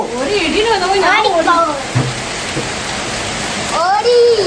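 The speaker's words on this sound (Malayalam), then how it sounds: "അപ്പൊ മഴ അടിപൊളി മഴയാണ്, അടിപൊളി മഴയാണ്" Heavy rain pours in Malappuram during a strong thunderstorm, a loud steady wash filling the whole clip close by, with people talking over it.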